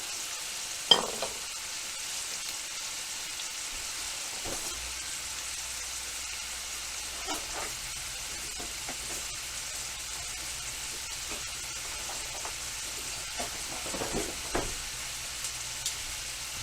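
Homemade French fries bubble in oil in a cast iron skillet, a soft, even sizzle with occasional light clicks and knocks, fairly faint and continuous with no voices.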